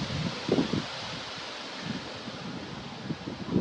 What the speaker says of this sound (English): Wow, is it windy today?